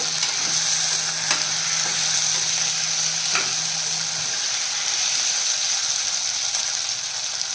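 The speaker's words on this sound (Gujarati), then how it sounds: "વટાણા અને ટામેટાં બંને સંતળાઈ ગયા છે. હવે એમાં બટેટા નાખીશું." Potato pieces added to peas and tomatoes frying for vegetable fried rice: a steady, close sizzle with spoon stirring and occasional scraping taps against the pan, and no talk.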